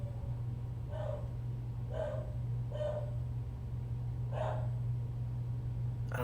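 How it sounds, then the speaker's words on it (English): A pet dog gives five short, evenly spaced barks at a moderate distance indoors, each one distinct over a steady low electrical hum. "I don't know what my dog's barking at."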